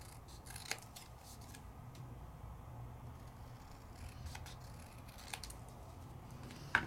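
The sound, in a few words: scissors trimming paper in a craft project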